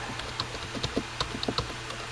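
Soft, irregular clicks of keys being pressed on a computer keyboard tap out close by in an uneven rhythm, with no talking.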